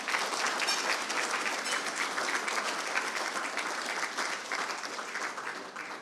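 Sustained applause from an awards ceremony audience, the Caribbean Global Awards, honoring a People's Choice winner; dense, steady clapping fills the whole stretch at even loudness.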